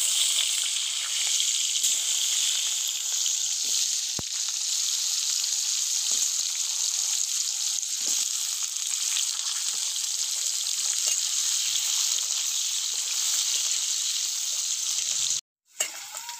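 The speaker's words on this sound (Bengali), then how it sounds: "এই একই তেলে এবার আলুগুলো ভেজে নেব।" Potatoes frying in hot oil make a steady, dense sizzle and crackle that runs unbroken and fairly close, with a brief clunk and a short dropout near the end.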